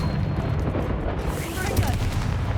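An Incendio fire spell cast in Hogwarts Legacy, a dense rumbling whoosh of flame with low booming weight, loud and continuous over the short span, a character's voice calling out the incantation.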